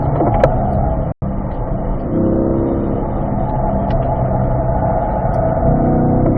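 A race car engine drones loud and close on a track, holding a steady throttle with a brief cut near the start before pulling strongly again under acceleration.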